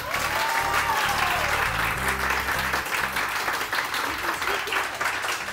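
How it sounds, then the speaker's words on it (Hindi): A live audience breaks into loud, dense applause that holds steady for several seconds, with crowd voices and low background music running underneath. "आप लोगों ने तालियां बजानी होंगी।"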